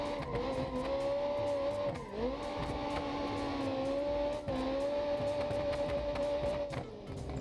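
A rear-wheel-drive car drifts in the BeamNG.drive driving game, its engine holding a high, wavering drone that dips briefly on shifts while tire squeal rasps underneath, loud and continuous with no talking.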